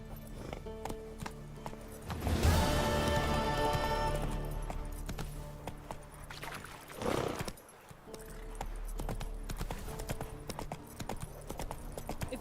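Roach, Geralt's horse in The Witcher 3, gallops with steady clip-clopping hooves throughout, a loud whinny rising early on, with game music and ambience underneath.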